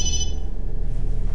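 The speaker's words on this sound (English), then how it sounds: "I should have turned off my cell phone. So he's got a phone call." Cell phone ringing in the video game Obscure, a steady electronic ring tone over a loud, low rumbling background.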